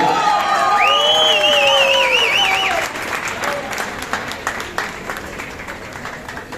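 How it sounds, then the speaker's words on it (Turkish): Audience applause and cheering at a film gala, loud and dense at first with whoops and whistle-like cries, then thinning into scattered claps under crowd chatter and voices. "Sevgili Gürkan'ı alkışlarla buraya almak istiyorum."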